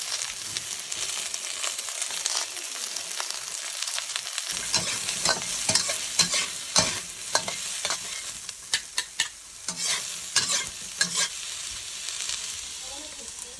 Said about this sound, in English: Next, you add some aromatics, such as chopped garlic, chopped onion, and chopped ginger.